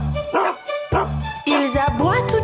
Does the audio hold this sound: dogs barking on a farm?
yes